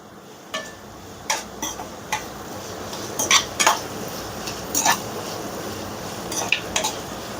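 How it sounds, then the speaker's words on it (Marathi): Chopped onion sautéing in hot oil in a home kitchen, a low steady sizzle under repeated sharp clinks and scrapes of a metal spoon against the pan, spaced irregularly and heard close. "तेल तापलेलं आहे. आता त्याच्यामध्ये आपल्याला कांदा घालून घ्यायचा आहे."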